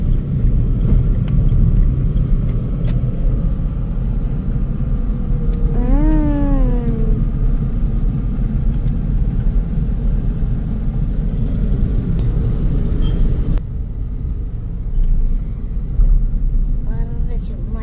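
A car drives along a road with a steady, low rumble from the engine and tyres throughout. Brief rising tonal sounds and muffled voices come up over it from inside.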